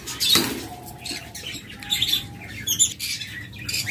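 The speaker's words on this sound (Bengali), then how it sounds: "এরপর আপনাদের চমৎকার এক জোড়া পাখি দেখাচ্ছি, দেখুন।" A pair of opaline pet birds chirps and squawks in short, irregular bursts, fairly close and moderately loud, with brief wing flutters and steady low room noise underneath.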